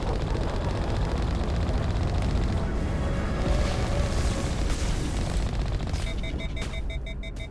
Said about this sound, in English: the gunfire on OBS looks like it's coming in so loud